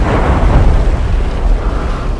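A deep, rumbling blast from an underwater mine explosion fills the whole clip, a sustained low roar with churning, muffled texture.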